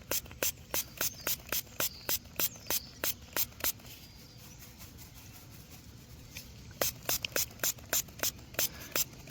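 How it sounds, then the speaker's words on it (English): Short bursts from a spray nozzle at a car rinse an old silver Barber quarter dug from a Missouri yard, coming in two rhythmic runs of quick hissing pulses with a quieter stretch between. "I'm gonna take this to my car and spray it off"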